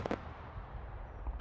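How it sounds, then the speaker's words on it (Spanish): Daytime fireworks bursting in two sharp broadband cracks, one at the start and a louder one near the end, with a low rumbling decay between them. "¿Habías visto fuegos artificiales en pleno día?"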